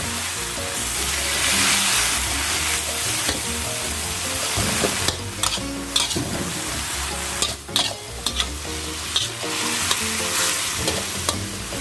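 Young chayote shoots stir-fry in a hot pan with black pepper, a loud, steady sizzle running throughout with frequent scraping and stirring clatters.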